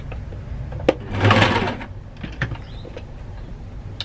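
A sewing machine stitches a sawtooth star quilt block in one short, loud whirring burst, surrounded by quieter clicks and handling sounds of fabric and thread.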